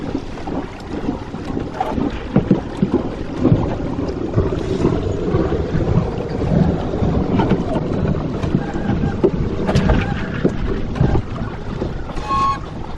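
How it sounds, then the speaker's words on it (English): Aboard a Com-Pac 23 sailboat crossing a channel before a storm, with another boat going by: a steady broadband rush of water and engine-like rumble under heavy wind buffeting on the microphone, continuous and fairly loud. "after this boat passes by, we should prepare to tack"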